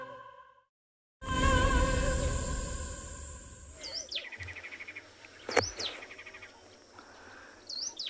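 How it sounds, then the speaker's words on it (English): Ashy tit calling outdoors in the Kalahari at sunset, a series of short whistled notes and chirps at middling distance, following a loud burst of other sound and wavering tonal notes. "I can hear a little ashy tit calling behind us"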